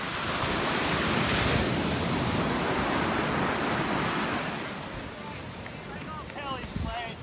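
Ocean surf on the California coast, where surfers ride the waves: a continuous, loud broadband roar of breaking water and wind buffeting the microphone, easing slightly toward the end, with faint brief sounds near the close.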